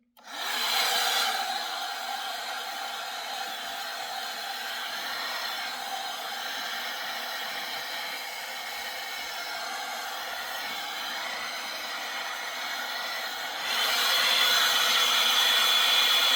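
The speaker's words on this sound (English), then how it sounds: "hot air brush" A hot air brush styling wig bangs blows a steady, loud whooshing hiss that runs unbroken for the whole stretch, swelling slightly louder near the end.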